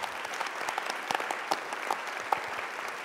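Audience applause at a National Book Awards campus event at Sam Houston State University, a steady wash of many hands clapping with a few sharper claps standing out, continuous and fairly distant throughout.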